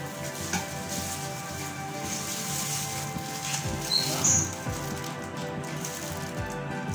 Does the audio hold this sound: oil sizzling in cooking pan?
yes